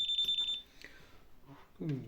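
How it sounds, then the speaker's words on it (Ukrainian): A FNIRSI DMC-100 clamp meter's voltage indicator gives a fast string of high, close beeps for about half a second, then someone talks briefly. "Беремо другий, як бачите, пищить, показує, що в нас тут фаза є."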